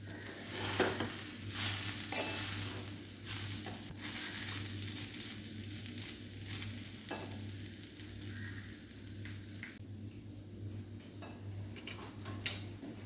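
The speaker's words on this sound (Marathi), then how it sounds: "मीडियम फ्लेम करून हे छान ढवळून घ्यायचं आहे आपल्याला" A coconut burfi mixture is stirred with ghee in a pan over a medium flame, giving soft, fairly faint scraping strokes over a low steady hum and light sizzle, with nobody speaking.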